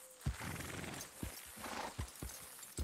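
Horse hooves clopping in the video game Red Dead Redemption 2, several distinct thuds of hooves on dirt with a brief whinny and creaking tack, fairly quiet under ambient game atmosphere.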